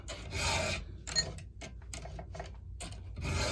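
A chainsaw chain is hand-filed up close, with bursts of harsh metallic rasping strokes separated by short pauses, heard alone without talk.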